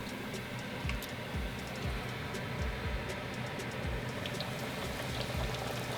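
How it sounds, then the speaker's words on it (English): A pork cutlet fries in hot oil at frying temperature, giving a steady close bubbling sizzle with scattered crackles and pops throughout. "This is the perfect frying temperature."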